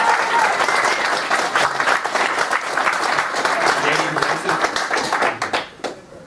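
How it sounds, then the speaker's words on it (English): An audience at a project launch event gives a lively round of applause with sharp individual claps, sustained throughout and dropping off abruptly at the end. "I'd like a big round of applause for Ian"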